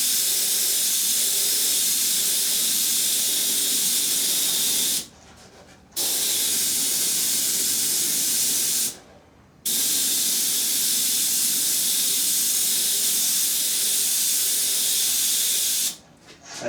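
Airbrush hissing steadily as it lays down a gray base coat, a loud close continuous spray broken by three short pauses where the trigger is released.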